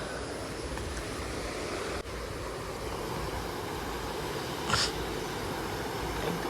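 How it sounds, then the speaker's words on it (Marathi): River water flowing steadily behind a rural farmhouse, a continuous broadband rushing wash with some wind noise on the microphone, no talking, quiet countryside setting. "फक्त पाण्याचा आवाज"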